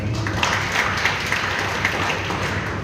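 A church congregation at a Sunday worship service applauds together, a steady wash of many hands clapping at moderate distance with a few sharper claps standing out.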